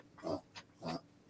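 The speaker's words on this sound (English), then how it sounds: "I hear your dog in the background snoring." A dog snores in the background of a live stream, two faint, drawn-out snorting breaths with a short snuffle between them, quiet and distant.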